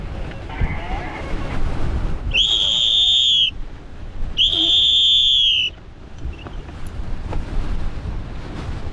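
A mountain rescue distress whistle blown in gusty wind, two long shrill blasts a couple of seconds apart, each cutting through constant buffeting wind noise.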